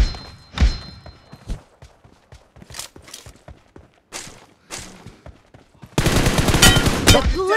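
M416 rifle gunfire in PUBG Mobile team deathmatch: scattered single shots and thuds at first, then a loud sustained burst of automatic fire close up near the end.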